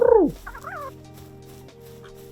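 A loud, close, gobbling cluck from the chicken creature in the video game Palworld, followed by a few softer warbling calls over a steady game background, with no talking.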